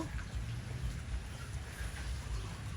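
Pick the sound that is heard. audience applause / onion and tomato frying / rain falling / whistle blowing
rain falling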